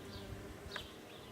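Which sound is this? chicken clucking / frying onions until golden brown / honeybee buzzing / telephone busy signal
honeybee buzzing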